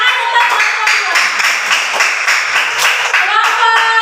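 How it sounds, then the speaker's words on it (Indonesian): Participants at a group learning session clap in a quick, regular rhythm, close and loud, while voices sing or chant along over the claps. "Tepuk tangan untuk"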